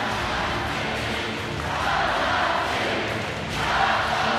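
Russian fans roaring and cheering in an arena during the 2015 FIBA U19 Women's World Championship final against the USA, a dense, continuous crowd swell that rises in waves.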